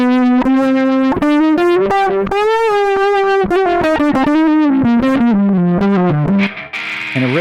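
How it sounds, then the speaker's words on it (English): Electric guitar run through an auto-filter effect, a juicy, sweeping melodic line of sustained notes that glide up and down, loud and alone, ending with a short burst of noisy texture. "an auto-filter guitar sound that I would call juicy"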